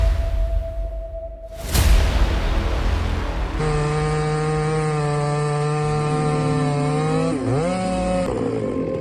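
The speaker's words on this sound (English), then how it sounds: "the chainsaws roar like a symphony of power and courage." A large chainsaw cutting trees in a forest bursts in with a loud crack, then runs steadily at a high, buzzing pitch that dips briefly as it bogs into the wood and recovers, with no talk over it.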